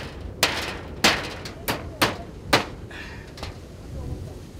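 Hammer blows on a windbreak being put up against wind and rain at a house on an island, struck one-handed: five sharp, fairly close knocks at uneven intervals, with wind and rain noise behind them.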